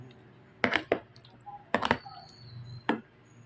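Buko fruit salad stirred with cheese and condensed milk in a bowl, giving a few separate clacks and scrapes of a utensil in short clusters over a quiet background.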